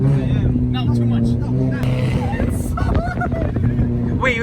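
A straight-piped 2.0 VW Jetta exhaust, heard as a loud engine rumble with brief rev blips, under near-constant talk from people nearby.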